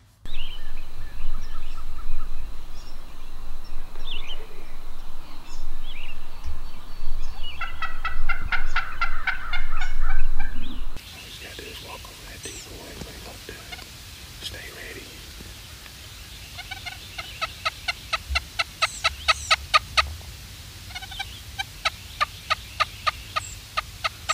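A wild turkey gobbles repeatedly during an outdoor turkey hunt, the loud close rattling calls coming in rapid bursts, later answered by fainter gobbles in the distance, with quiet voices murmuring.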